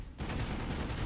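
Rapid, close gunfire from a MAX weapon in Planetside 2 erupts after a brief quiet start and runs as a dense, even burst of shots to the end.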